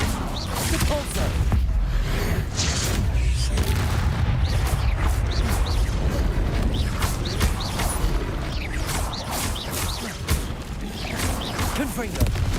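Depulso force-push spell in Hogwarts Legacy amid a busy magical duel, a steady run of thumps, cracks and creaking impacts with rapid repeated hits throughout, and a voice talking over the fight.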